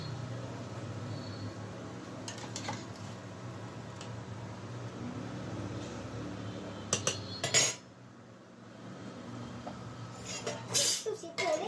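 A spoon stirring rice in a cooking pot for aloo biryani, a faint scraping clatter with a few sharper clinks near the end over a low steady hiss.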